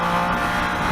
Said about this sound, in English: Let me open some throttle.